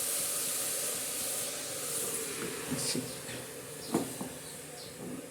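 Washed amaranth greens, a wild leafy vegetable, drop into a hot pan on a gas stove and give off a steady steamy hiss, with a few soft clatters and bumps over it and no talk.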